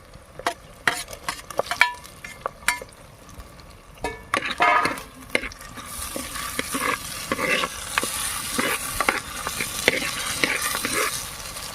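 Tomato with turmeric fries in a pan while a utensil scrapes and stirs in quick, uneven strokes, and a steady sizzle rises and stays loud through the later part.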